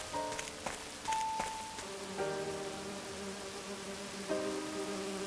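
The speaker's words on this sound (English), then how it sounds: "Let's have a look at the bees then." Bees in the video game And Then There Were None make a thin, continuous electronic buzz with shifting tonal hums. It is steady and moderately loud, with a few faint clicks and no talking over it.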